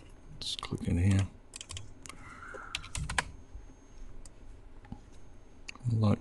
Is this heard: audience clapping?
no